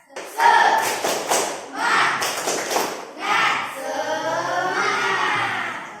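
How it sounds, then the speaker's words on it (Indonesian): A classroom of students performs a rhythmic spirit clap together, bursts of group clapping in repeated patterned beats with children's voices chanting along near the end. "Ayo semua sama-sama kita tepuk semangat."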